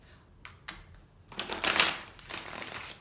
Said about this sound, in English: so I shuffled before, I just shuffled again.